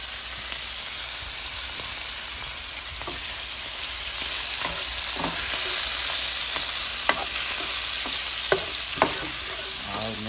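Seasoned cabbage frying in a pan gives a loud, steady close-up sizzle, with spoon or spatula scrapes and taps coming through now and then as it is stirred.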